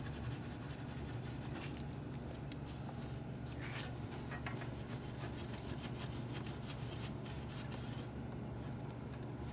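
Steady rubbing by hand as 3M premium liquid wax is worked onto old Harley motorcycle paint, a continuous soft scrubbing texture with faint back-and-forth strokes over a low background hum, no talk.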